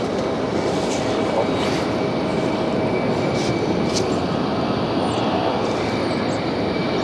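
A jet airliner on its takeoff roll and rotation at Philadelphia International Airport (PHL) gives off a steady, loud broadband engine roar that holds level throughout, with no talk over it.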